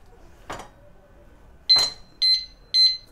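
A disc brake lock with a built-in alarm sounds its warning: after a couple of soft handling clicks, three loud, shrill electronic beeps come in quick succession, close up, with no talking.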